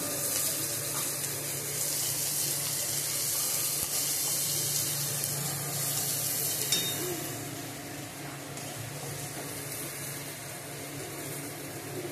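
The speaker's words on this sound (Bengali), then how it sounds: "এবার আলুটা দিয়ে দিলাম। এবার নাড়তে থাকবো।" Potatoes and onions frying in a pan for chira poha while being stirred, a steady sizzling hiss with faint scraping throughout, no talk.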